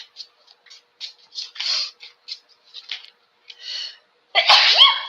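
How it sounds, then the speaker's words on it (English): Soft breathy sniffs and catches of breath build up, then one loud sneeze bursts out at the end, close to the listener. "feel like I'm gonna sneeze."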